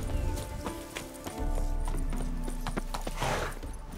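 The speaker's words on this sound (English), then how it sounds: "Bloody fine mount. Good stance, powerful rump, stable withers." Roach, a horse in The Witcher 3, trots with steady rhythmic hoof clip-clops at close range over a low ambient drone, alone without talk.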